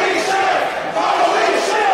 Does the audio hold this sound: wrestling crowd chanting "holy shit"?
yes